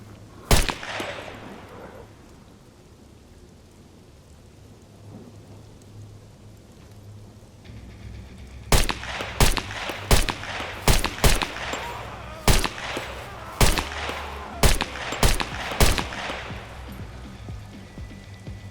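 Gunfire from a weapon in the survival game SCUM, an isolated shot followed after a quiet pause by a rapid series of loud, evenly spaced single shots over a low steady ambient hum.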